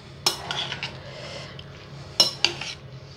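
Utensil scraping and clinking against a bowl while ingredients are mixed with egg and potatoes, a few sharp knocks standing out over a quiet background, with no voices.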